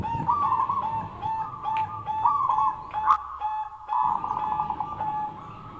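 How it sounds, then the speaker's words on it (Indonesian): A zebra dove coos in soft, repeated warbling phrases against a steady background hum, with no voices. "suara burung ketitiran tersebut ini berdengung, berdengkung sampai ke sanubarinya"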